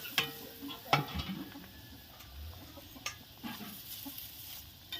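Fried raw banana koftas are gently stirred into simmering gravy, making soft, scattered stirring scrapes and light taps against the pot, faint and close, with a quiet bubbling underneath.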